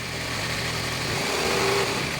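Engine of a 2014 Kia Rio with a check engine light and poor power, held at high idle RPM, a steady drone with a slight rise in revs, close by and with no talking over it.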